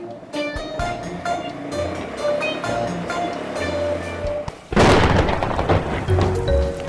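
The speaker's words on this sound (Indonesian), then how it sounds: "baru juga panas, udah dikasih hujan lagi" Rain suddenly bursting down outdoors near a rooftop setting, a loud broadband rush that starts abruptly partway through over a busy background of music and ambient noise, continuing steadily to the end.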